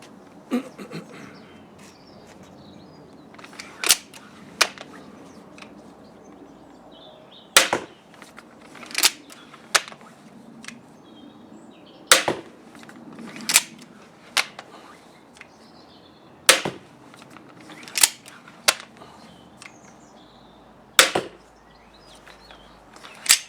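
A Cobra Adder repeating crossbow fires bolts in a steady series of sharp, loud snaps, one every second or two, over a quiet outdoor background.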